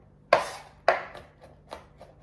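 Fresh garlic is chopped with a knife on a cutting board: two sharp, close knocks followed by three or four softer, quicker taps that trail off.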